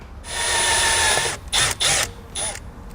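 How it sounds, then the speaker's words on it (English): Small drill bit on a power drill cuts a pilot hole into the dashboard of a 2018 Jeep JL: a loud, close whirring burst, then two shorter stop-start runs and a final brief one. "I'm going to take a small drill bit. I'm going to drill a pilot hole into the dash."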